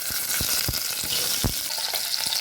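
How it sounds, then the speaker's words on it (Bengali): Cauliflower florets frying in hot oil in a pan, a continuous sizzle broken by several sharp pops and crackles, loud and close with no voices. "খুব ভালোভাবে ফ্রাই করে নিব যাতে ফুলকপির কাঁচা গন্ধটা চলে যায়।"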